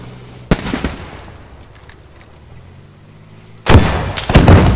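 Two loud, sharp rifle cracks from a sniper and a player in the game Squad, separated by a few seconds of quiet, each followed by a brief echoing tail.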